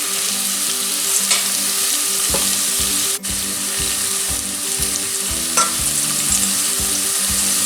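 Onions, ginger and garlic fry steadily in a pan for chicken gravy, a continuous close sizzle broken by repeated scraping stirs, with no voices.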